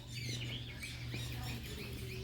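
Conures and other parrots calling in a large walk-in aviary, a busy chorus of high chirps and squawks layered over a steady low hum, fairly close and continuous with no talking.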